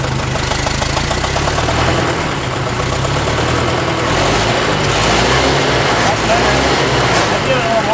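An old abandoned tractor engine cranking and running roughly, a loud, dense mechanical clatter with knocking pulses and uneven throttle changes, close up.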